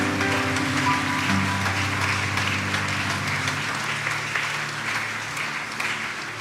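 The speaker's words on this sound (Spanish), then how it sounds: "denle un aplauso a Dios" A church congregation applauding, a steady wash of many hands clapping over a sustained tonal hum, fading slightly toward the end.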